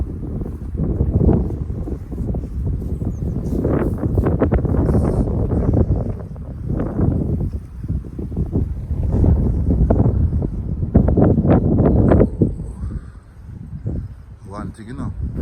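Strong wind buffets the microphone on a cold day outdoors in Great Britain, a steady roaring rumble that swells and gusts throughout while someone talks over it.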